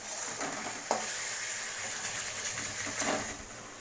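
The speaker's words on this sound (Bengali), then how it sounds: "তার আগে চলো এটা ভালো করে কষাতে লাগি আমরা।" Spices with salt and turmeric are stir-fried in a pan for a meat dish, giving a steady sizzle with scraping stirs and a few sharp spoon knocks, close and fairly quiet, with no talking.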